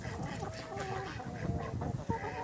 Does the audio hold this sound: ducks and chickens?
yes